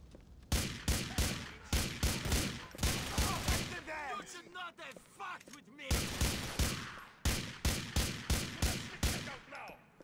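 Rapid bursts of automatic gunfire from Grand Theft Auto 4, loud, repeated volleys with brief gaps between them, one of which carries a low rumbling stretch.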